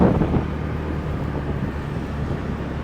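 Steady broadband wind rushing past the microphone, a low constant roar with a slightly louder gust at the start, no voices.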